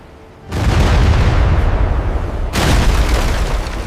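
A sudden loud boom of naval cannon fire in an Anglo-Dutch War sea battle, followed by a rolling roar, then a second heavy blast a couple of seconds later.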